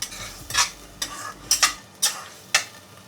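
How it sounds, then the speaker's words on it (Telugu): A spoon stirring masala in oil in a pan for biryani, about five distinct scraping strokes at a steady rhythm over a faint sizzle, close up with no talk. "ఆయిల్లో మిక్స్ అయ్యి ఆయిల్ అంతా పైకి తేలేంత వరకు బాగా మిక్స్ చేసుకోవాలి."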